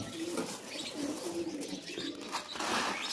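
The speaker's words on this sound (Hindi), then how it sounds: "कबूतरों को डाइट दे रहे हैं दोस्तों" Pigeons coo softly and repeatedly close by while being fed a grain mix, with faint chirps and light rustling around them and no speech.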